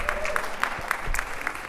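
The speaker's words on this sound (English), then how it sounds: "I have to thank you for clapping" An audience at a school convocation claps in a steady, moderately dense patter, with individual claps distinct and fairly close.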